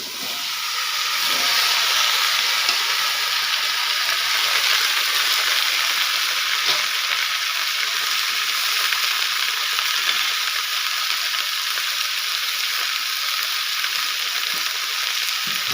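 Cauliflower and other vegetables frying in a pan of hot oil give off a loud, steady, hissing sizzle that continues evenly, with occasional faint stirring clicks.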